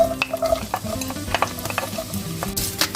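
Onions hit hot oil in a pan with a close, crackling sizzle, broken by brisk stirring clicks and utensil taps against the pan, with no talk.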